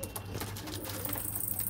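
Pet pigeons kept at home coo in a low, steady murmur, faint and somewhat distant, with light rustling and fluttering sounds mixed in and a voice speaking quietly nearby.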